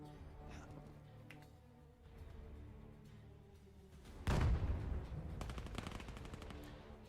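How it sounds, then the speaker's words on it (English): Rapid bursts of gunfire from a video game, starting faint and scattered, then turning into loud sustained automatic fire partway through. "Already lots of gunfire."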